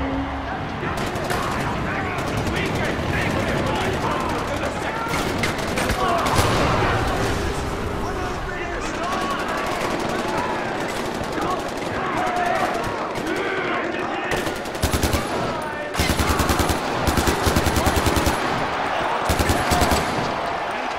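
Sustained rapid gunfire from a powerful weapon in the video game Far Cry 4, loud and continuous throughout with dense bursts and sharp cracks, while someone talks over it.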